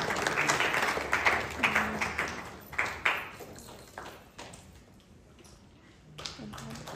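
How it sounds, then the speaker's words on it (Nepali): A wedding congregation claps for the groom in a hall, a scattered burst of applause that swells and then tapers off toward quiet before a few more claps resume. "ताली बजाइदिनुहोस् उहाँलाई पनि"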